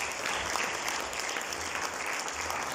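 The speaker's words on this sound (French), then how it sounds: "c'est ça que on peut vraiment les applaudir" Audience applause at a book launch in Mauritius, a full, even roar of many hands clapping close and loud, sustained throughout with no talk over it.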